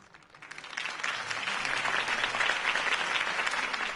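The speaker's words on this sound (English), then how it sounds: "could have heard that applause" Applause from a crowd swells in over the first second, then holds as steady, dense clapping to the end.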